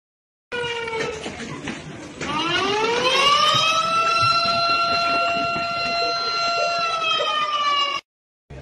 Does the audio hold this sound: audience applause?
no